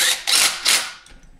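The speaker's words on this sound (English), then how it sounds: "we're going to want to tighten them bolts" A ratchet clicks rapidly in short bursts while bolts are tightened on a Predator 212cc engine electric start kit, close and fairly loud with brief pauses between strokes.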